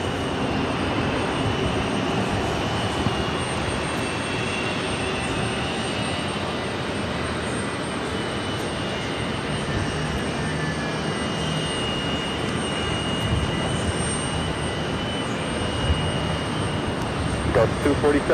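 A fixed-wing airliner landing at JFK airport, a loud steady roar of jet engines that holds unbroken throughout, with a faint high whine riding above it.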